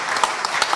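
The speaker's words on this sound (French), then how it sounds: "Applaudissements pour ce nouveau panel sur cette thématique" Audience applause at a general assembly conference greets a new panel, a dense wash of clapping with a few sharper individual claps standing out, brief and steady.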